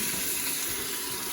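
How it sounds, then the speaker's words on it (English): Enchilada sauce poured into a pan of sausage and onions for chicken tinga: a steady, close liquid pour and splash that lasts the whole moment, with no talking. "We're gonna take this sauce and we're gonna pour it into the sausage and the onions"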